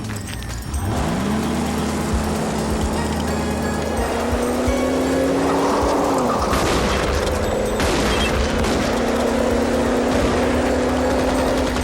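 A car engine revs hard and accelerates with a rising whine, then tires squeal and further bursts of revving follow, loud and close throughout with no talking.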